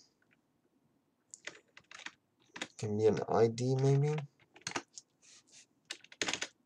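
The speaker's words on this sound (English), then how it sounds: "this keyboard is not the best for typing" Typing on a computer keyboard, with clicky keystrokes in irregular bursts close by and a voice speaking briefly in the middle.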